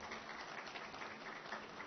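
Audience applause greets a Bilaspur legislator stepping onto the stage at a televised public forum, a dense steady clapping that fills the room without pause.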